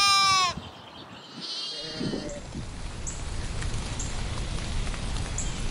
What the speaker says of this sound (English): Spring brings the new birth of baby lambs, bouncing around the fields, barring, playing and chewing on the grass.